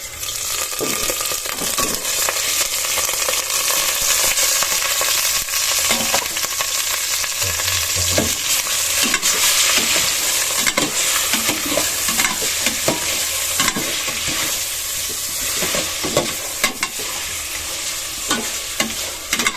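Pork frying loudly in a pot for sinigang, a dense, continuous sizzle broken by repeated stirring scrapes and clatters close by.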